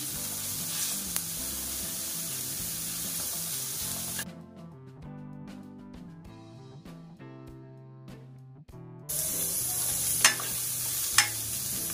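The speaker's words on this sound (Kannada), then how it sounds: "ಒಂದು ಟೇಬಲ್ ಸ್ಪೂನಷ್ಟು ಶುಂಠಿ ಬೆಳ್ಳುಳ್ಳಿ ಪೇಸ್ಟ್ ಹಾಕೊಳ್ತಾ ಇದ್ದೀನಿ" A tablespoon of ginger garlic paste sizzles in a pan for egg fried rice, steady close frying hiss with a few stirring clicks, dropping away in the middle before the sizzle returns.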